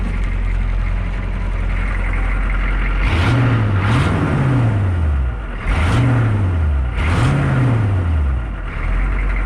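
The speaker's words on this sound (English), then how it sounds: "New exhaust was a success. Sounds pretty good." Diesel truck fitted with a new exhaust idles at a deep, steady rumble, then is revved four times in two pairs, each rev swelling and falling back, loud and close with no talking.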